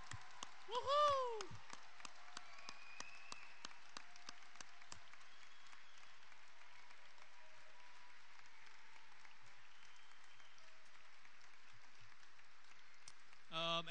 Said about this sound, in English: let's all give our graduates another great round of applause